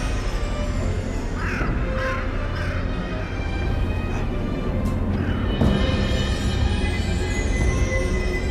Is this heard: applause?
no